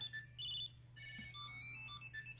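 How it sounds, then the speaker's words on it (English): Electronic melodic ringtone from a smart keychain, a short catchy tune of bright tonal beeps repeating in phrases with a brief pause, played alone at moderate volume over a steady low hum. "Kind of catchy ringtone."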